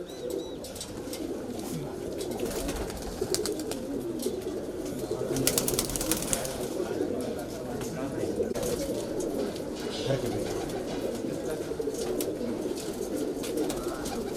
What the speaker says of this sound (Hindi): ये देखिए कलदुमा कबूतर